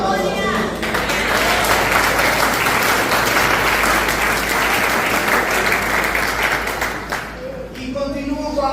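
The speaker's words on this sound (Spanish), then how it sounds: "Den un aplauso." A congregation at a church sermon applauds in loud, sustained clapping that holds for several seconds, then fades out near the end.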